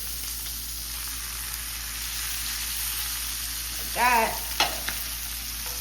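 Steak frying in butter in a pan hisses with a steady close sizzle, broken near the end by a short scrape and thump as the meat is flipped, with a brief word spoken.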